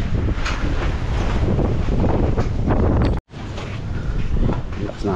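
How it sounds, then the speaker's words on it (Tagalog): Strong wind buffets the microphone in a constant loud roar, cutting out abruptly for a moment before rushing back in. "Lakas na hangin dito."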